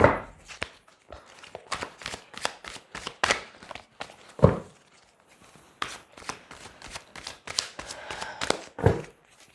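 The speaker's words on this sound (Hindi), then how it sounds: "मैं थोड़ा सा इन कार्ड्स को सफल कर लूँ" A deck of tarot cards is shuffled by hand in bursts of close, crisp riffles and taps, alone with no talk, pausing briefly between flurries.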